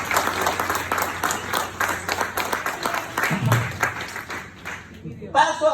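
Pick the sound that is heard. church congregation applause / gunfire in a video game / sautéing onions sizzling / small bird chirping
church congregation applause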